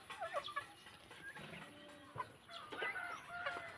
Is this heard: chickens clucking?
yes